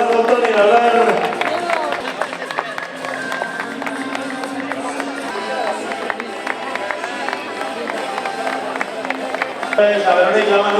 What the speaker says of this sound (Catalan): Fort aplaudiment per als mestres, per l'Eduardo, el Toni i l'Albert.